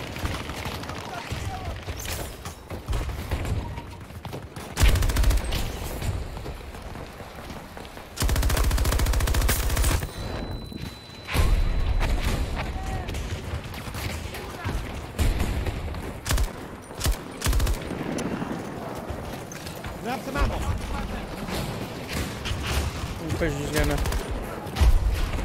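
Rapid automatic gunfire and bursts of shooting from a first-person shooter game, loud and sustained with echoing booms, while players talk and shout over the firefight.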